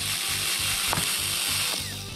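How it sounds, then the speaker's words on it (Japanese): A power drill whirs steadily with a rhythmic pulsing grind as it bores a small starter hole into a plastic case, close and loud, with a brief sharp crack partway through. "ここの部分にですね、ドリルで穴を開けます。"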